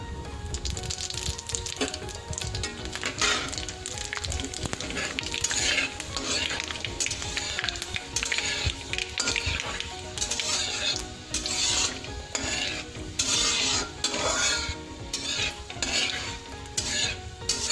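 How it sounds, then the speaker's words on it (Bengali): Panch phoron spices crackle and fry in oil for tomato chutney, with steady sizzling under a rhythmic series of metal spoon scrapes against the pan, close and continuous. "পাঁচফোড়নটা ভাজা ভাজা হয়ে গিয়েছে"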